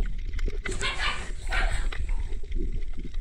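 A dog barks and yips a few times nearby amid rustling and low background noise, sounding agitated.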